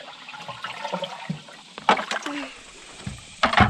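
Water scooped up and poured into a bait bucket beside a backyard pond during cast netting for golden shiners, heard as a few short splashy pours and trickles with quieter gaps between them.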